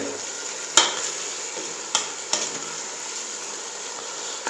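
Chicken sizzles steadily in a pan, a continuous bright fry with a few sharp scrapes and knocks of a stirring spoon against the metal.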